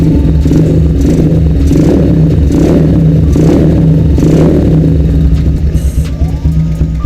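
Honda GL motorcycle engine with upgraded spare parts revs loudly and close, in several rhythmic throttle blips over a steady idle, then eases back toward a calmer idle at the end.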